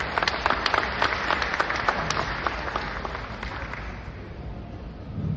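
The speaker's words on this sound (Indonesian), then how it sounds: "Sekali lagi tepuk tangan dulu untuk kami." Audience applause at a foundation's anniversary event, a dense wash of many hands clapping that stays loud for several seconds, then gradually thins and fades toward the end.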